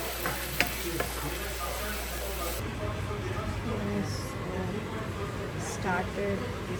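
Tomato puree base for a fish curry sizzles and spatters in a pan, a quiet, continuous frying hiss with occasional stirring scrapes and a faint voice in the background.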